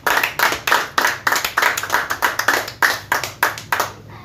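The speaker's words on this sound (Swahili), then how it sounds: "Pigieni preacher pia makofi mazuri." Youth service congregation clapping for the preacher in a church, crisp rhythmic hand claps repeating at an even brisk pace, loud and near, with no voices over them.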